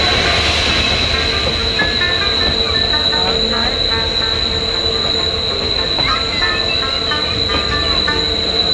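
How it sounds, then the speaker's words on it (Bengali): Steady rumble of a moving train with rhythmic wheel clatter and occasional metallic squeals, loud and continuous from inside a carriage. "আমি একটা ভিডিও করছি ট্রেনে উঠে একটা ভিডিও করছি"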